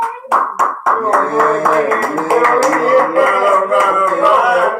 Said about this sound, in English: We might as well, clap some hands and stuff.